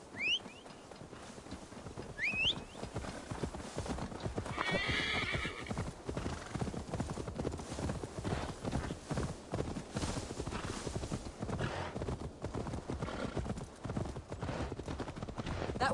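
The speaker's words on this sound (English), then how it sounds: "Now to deliver Magni his horse." Steady clip-clop of horse hooves trotting throughout in Assassin's Creed Valhalla, with a couple of whinnies early on and soft ambient game sounds beneath.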